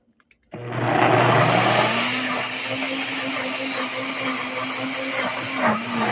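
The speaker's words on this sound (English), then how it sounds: "we're going to put it in the blender and put that top on it." A blender blending an apple mixture for apple butter whirs loudly, starting abruptly and running steadily with a high motor whine that dips slightly in pitch near the end.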